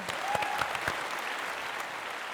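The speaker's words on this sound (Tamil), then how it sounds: "பெரிய கைத்தட்டல் கொடுங்க" Studio audience on a Tamil TV children's game show gives a family of contestants a big hand, brisk and continuous clapping with a few faint whistles near the start.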